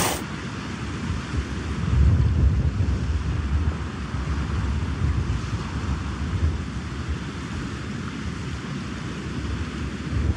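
Steady storm wind roars and rumbles continuously outside a tent, with gusts swelling and easing, heard from inside the tent without any voices.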